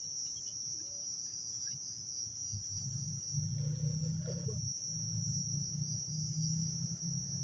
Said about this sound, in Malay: Dengar tak bunyi sekeliling, bunyi cengkerik semua dengar tak?